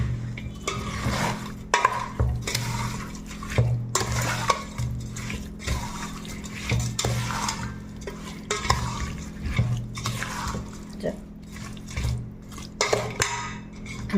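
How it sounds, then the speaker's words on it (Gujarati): Mango pickle pieces being stirred with spices in a metal pot, repeated wet scraping and clinking strokes in an uneven rhythm, close and fairly loud. "હવે એને આપણે મિક્સ કરી લઈએ"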